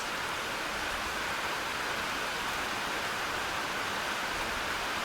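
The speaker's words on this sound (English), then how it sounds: "Oh, the rain got like a little bit more intense." Steady, dense rain from the game If Found pours without a break, a broad hiss that fills the whole stretch evenly and stays loud and close throughout, with no voices over it.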